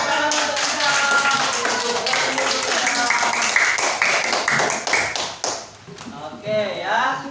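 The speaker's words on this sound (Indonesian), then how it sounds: "tepuk tangan untuk Iza." A group claps together in a brisk burst of applause, mixed with voices and cheering, tapering off near the end.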